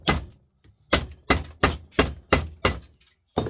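Heavy, sharp hammer impacts strike a microwave at a steady rhythm, about eight loud blows in quick succession with brief silences between them, close up and with no talking.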